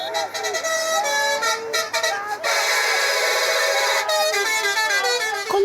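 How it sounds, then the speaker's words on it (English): Drivers sound their car horns at the Nakuru-Nyandarua county border in Kenya, a loud overlapping chorus of sustained and stuttering honks layered on one another, with some toots cutting in and out. "the thrill of a honk."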